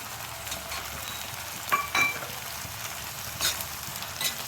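Chopped tomatoes dropped into a hot pan with ginger-garlic paste for soybean curry, a steady sizzle with a few louder scraping stirs and light clinks, no voices.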